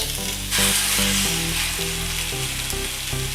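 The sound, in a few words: pork rib fat sizzling in a hot pan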